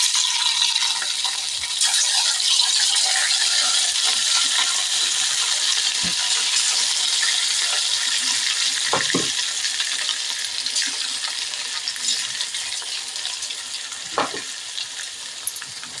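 Pieces of chicken 65 sizzle and crackle steadily in hot oil, a dense bright hiss with scattered pops and a few clinks of a utensil against the pan. No voice is heard over the frying.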